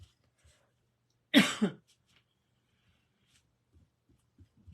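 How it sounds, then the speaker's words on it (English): A single short burst of coughing, two quick hacks close to the mic, surrounded by near silence and faint low thumps. "That's annoying to keep coughing"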